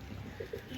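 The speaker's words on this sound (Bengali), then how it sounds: "আমার এখানে কালো কবুতর বাইরে যাইতেছে" Desi pigeons coo in a loft, two soft, low rounded calls rising briefly over a steady faint background hum.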